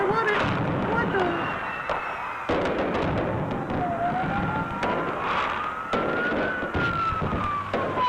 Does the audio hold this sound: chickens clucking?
no